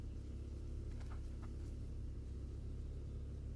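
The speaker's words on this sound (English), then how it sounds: "Why does this car sound like a bomb?" Car engine in BeamNG: a steady, deep, low rumble running throughout at even loudness, with a couple of faint higher blips early on.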